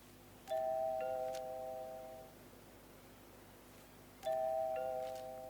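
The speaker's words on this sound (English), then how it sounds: "push the doorbell 5 times" Two electronic doorbell chimes ring out clearly in the video game Hitman 3, each a quick ding-dong tone pair, separated by a few seconds of low background hum.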